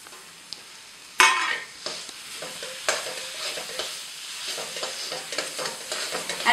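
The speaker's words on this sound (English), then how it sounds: "you need to dry roast the khoya, and it's going to start melting very quickly" Crumbled khoya is stirred and dry roasted into carrot halwa in a pan, with a soft sizzle under repeated scraping strokes of the spoon, close and fairly loud after a sudden start.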